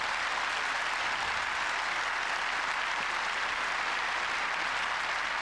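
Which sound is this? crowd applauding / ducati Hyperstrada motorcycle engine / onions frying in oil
crowd applauding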